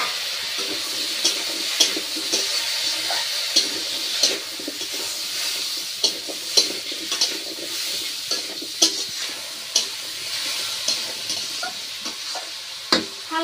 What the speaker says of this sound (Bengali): এবার ধুয়ে রাখা সবজিটা দিয়ে দিচ্ছি।